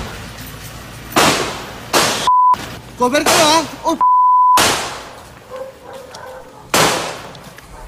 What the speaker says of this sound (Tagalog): Umalingaw-ngaw na ang sunod-sunod na putok ng baril.